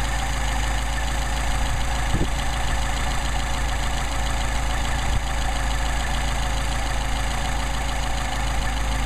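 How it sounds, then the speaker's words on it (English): A Mercedes 190SL engine with Solex carburetors idles steadily and smoothly with a low, even rumble and no change in pace. "And nothing wrong with that idle."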